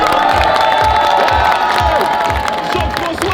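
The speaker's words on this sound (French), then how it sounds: "Alors attention, applaudimètre, allez-y. Faites du bruit pour Jean-François." A game-show audience cheers and shouts loudly for a contestant, with whoops and children's voices in a dense, continuous roar that holds steady throughout.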